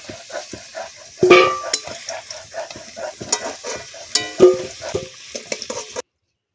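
Potatoes for a village-style mutton curry fry in hot oil, a steady close sizzle broken by scraping stir strokes and a couple of sharp metallic clanks from the pan, with no talking.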